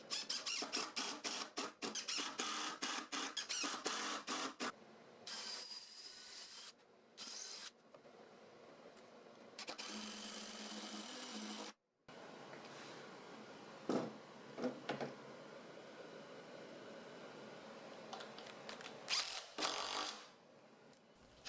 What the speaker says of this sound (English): So I'm drilling out some holes for the lag bolts to both hold the vise to it